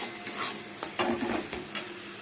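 Spices, Kashmiri chilli powder and two bay leaves fry in oil for a vegetarian paneer dish, a close, constant sizzle broken by several quick scraping strokes of a spoon against the pan.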